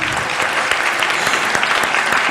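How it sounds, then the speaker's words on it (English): Audience applause at an MLK Unity Breakfast, a dense, steady round of clapping from a crowd that fills the room without a break. "Let's give everyone a big round of applause"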